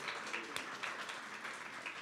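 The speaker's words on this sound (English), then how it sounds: "let's give a round of applause" An audience at a women's tech panel event in Chicago applauds, a faint, distant patter of many hands clapping steadily for a couple of seconds.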